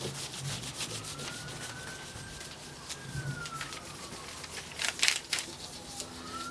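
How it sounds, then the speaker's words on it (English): A spoon rubs steadily by hand across paper laid on a photo-polymer relief printing plate, giving a close, continuous scraping and burnishing sound with small bumps and a few louder strokes near the end. "This method of printing, I've always heard it called hand burnishing, printing by hand."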